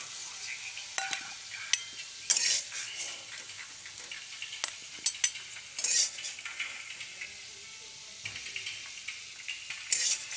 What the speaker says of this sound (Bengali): তো আলুগুলো এইভাবে আমি ভেজে নিয়েছি, তুলে নেব।